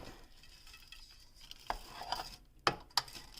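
Crispy breaded chicken pieces for chicken parmesan get flipped inside an air fryer, giving a few sharp clacks and crunchy scrapes over a faint background hum.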